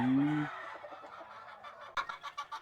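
A Golden Boy breed gamefowl hen at a gamefarm gives a drawn-out, throaty call and then a run of short, close clucks. The clucks come at an uneven rhythm, grow sharper toward the end, and are heard alone with no talk.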